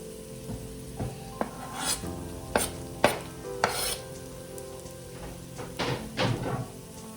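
Garlic and crushed red pepper cooking in a pan, with a spoon scraping and stirring in several bursts over a faint sizzle, close and clear, no talk.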